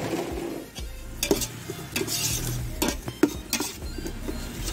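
Onions and masala being stirred in a pan for Kerala-style chicken fry, with a spoon scraping and clinking against the metal at irregular intervals over a low sizzle, close and fairly quiet.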